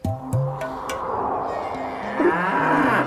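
A buffalo moos loudly and repeatedly in long low calls, close by and filling the whole stretch with little else around it.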